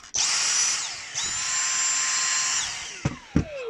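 A Dyson V6 Animal cordless vacuum cleaner running in boost mode gives a loud, steady high-pitched motor whine that dips briefly, resumes, then ends with a couple of sharp knocks.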